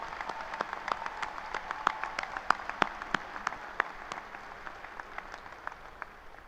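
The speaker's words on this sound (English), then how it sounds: "a huge round of applause" A graduation crowd in a large arena applauds, many hands clapping in a steady wash with sharper individual claps standing out, somewhat distant and reverberant.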